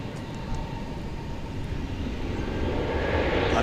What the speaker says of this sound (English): What just landed was the A320 from San Antonio